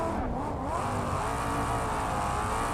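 A video game car with a stock exhaust revs steadily, its engine note sustained and loud from start to finish, with no pauses and no voices over it.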